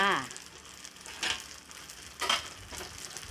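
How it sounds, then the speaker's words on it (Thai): Pork stir-fries in a pan for pad see ew, a soft, even sizzle with a couple of brief louder scrapes or tosses, quiet and close. "แม่วันจะผัดหมูค่ะ"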